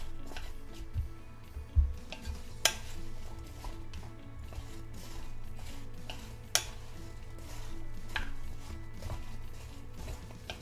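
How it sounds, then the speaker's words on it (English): Apples with lemon juice are being stirred in a bowl, soft repeated scraping and clinking of a utensil close by, with a few sharper knocks and no talk. "I'm just gonna give that a quick stir, just to try to get the lemon juice all over the apples."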